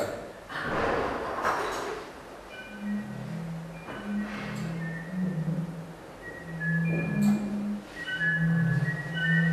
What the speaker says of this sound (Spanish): Es un silbido de un compositor argentino